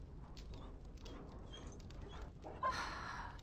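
Dog in the video game Dragon Age: Origins whimpering and whining softly, with short plaintive cries over quiet game ambience and footsteps, then a brighter burst of sound near the end.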